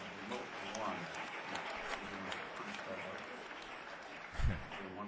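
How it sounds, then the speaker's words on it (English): Applause from an audience at the Georgia Capitol runs as a soft, diffuse clapping wash, fairly faint, with a brief low thump near the end and some voices mixed in. "we can give her one more round of applause in here"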